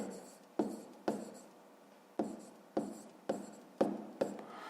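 Writing out a fifth-grade math solution, with seven or eight sharp, evenly spaced strokes, each one a quick attack fading into a short scratchy tail, close and alone with no talking.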